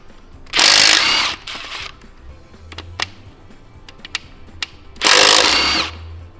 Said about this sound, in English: let's pull a rod cap off and check these bearings out